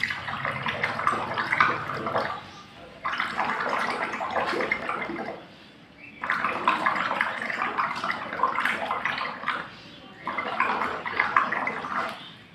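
Air blown through a tube into water makes close, bubbling gurgles in four sustained bursts, each a few seconds long, separated by brief pauses.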